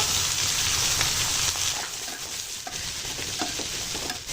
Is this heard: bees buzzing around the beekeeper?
no